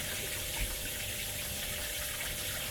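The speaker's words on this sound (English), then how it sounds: "And here comes the water." Water pours into a small boat's fish well through the fish valve aerator, a steady, fairly quiet rushing and gushing wash with a faint pump hum beneath it and no speech.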